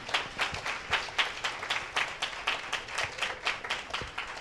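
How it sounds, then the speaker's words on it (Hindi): Church congregation applauding during a Hindi-language worship service, steady rhythmic clapping of many hands at a moderate distance, continuing evenly for several seconds without talk. "जोरदार ताली दे सकते हैं आप।"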